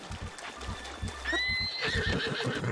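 A horse neighs loudly in the video game The Legend of Zelda: Breath of the Wild, one long whinny over hoof clip-clops and background game sounds.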